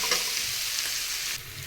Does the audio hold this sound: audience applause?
no